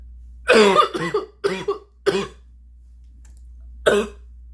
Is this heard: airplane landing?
no